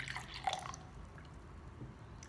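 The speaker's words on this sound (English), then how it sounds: "and fill it up with water." A few soft drips and a brief splash of water poured into a glass container, quiet and close, against faint background hiss.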